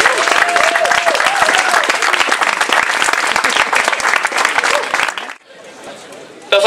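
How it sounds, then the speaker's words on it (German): Ice hockey fans applauding in an arena during a team presentation, dense loud clapping and crowd noise with an announcer's voice over it, then cutting abruptly to a quieter room tone near the end. "Einmal Applaus für die Sponsoren des EC Bad Nauheim."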